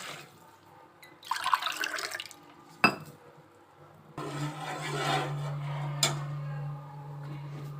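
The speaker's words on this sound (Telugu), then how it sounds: "ఇందులో 4 గ్లాస్ వాటర్ వేసుకొని" Water is poured into a cooking pot while mutton biryani is prepared, with a few splashy pours, sharp clinks of metal and glass, and then a steady running stream near the end.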